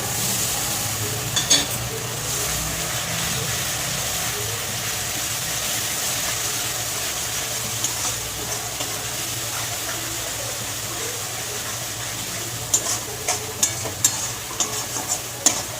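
Spice paste of chilli, cumin and turmeric powder sautéing and stirred in a pan, a continuous dense sizzle with a low background hum and a few sharp utensil taps near the end.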